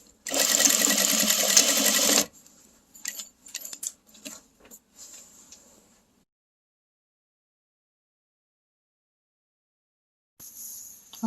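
A sewing machine stitches a bag in a loud, steady whir for about two seconds. Clicks and handling sounds follow, then a long silence, and a brief burst of machine noise returns at the end.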